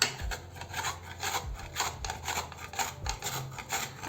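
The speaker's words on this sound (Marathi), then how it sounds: "आता आलूला किसून घेऊ." Raw peeled potatoes rubbed against a kitchen grater, giving a steady series of rough rasping strokes, close and fairly loud, one after another with a regular back-and-forth rhythm and no talking.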